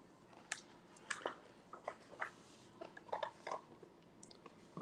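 Crunching bites into tacos, a series of sharp, irregular crunches spread over a few seconds against a quiet background, with no talk.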